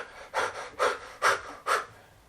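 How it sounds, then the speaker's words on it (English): Panting breath exercise: four quick, rhythmic breaths puffed out close to the microphone, evenly spaced and moderately loud, with no talking. "in some cases, the panting breath"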